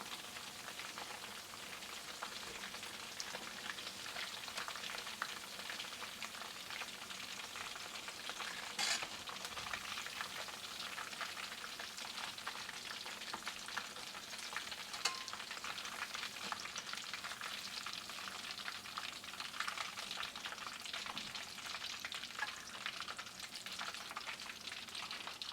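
Chicken 65 pieces frying in hot oil, a steady dense crackling sizzle that stays loud and even throughout, with occasional stirring scrapes and no voices.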